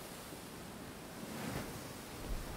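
Ocean waves in a video game: a steady, fairly quiet wash of surf that swells slightly partway through, with no speech.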